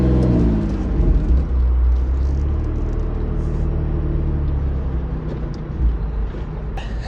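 A Renault Clio V6 hot hatch cruising on an open road, its engine droning steadily with a deep low rumble and mild revving swells, loud and close throughout with no talk.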